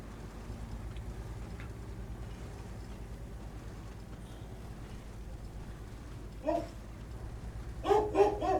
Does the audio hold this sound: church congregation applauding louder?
no